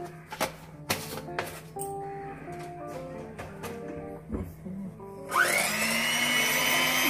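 An electric hand mixer beats eggs with a pinch of salt for a homemade cake; a few clinks and taps come first, then the motor whirs up loud and close, running steadily to the end.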